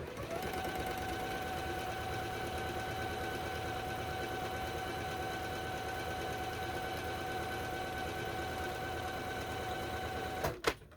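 Sewing machine stitching quilt fabric with a steady, close whir and a fast, even needle rhythm that runs unbroken for about ten seconds and then stops abruptly with a brief clunk.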